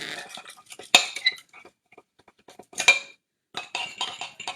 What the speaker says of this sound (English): Just gonna whisk it till the yolks are broken up.